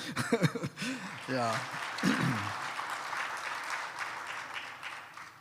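An audience at a closing ceremony for a journalists' economics training course breaks into applause for the spokesperson, a sustained wash of clapping following a voice in French and some light laughter.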